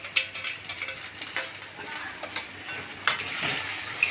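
Ginger, garlic and green chili paste fries with fried onions in a pan before chicken goes in, a close, even sizzle broken by repeated scraping stirs, with no talking.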